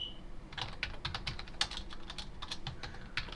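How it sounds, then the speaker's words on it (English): Fingers type a command on a computer keyboard in quick, uneven bursts of crisp key clicks, close and clear, with no voice over them. "I'll type that in."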